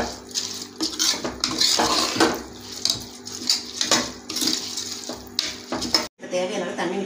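Soaked rice is stirred in a cooking pot, giving repeated wet scraping and clinking strokes at close range, with a brief pause near the end.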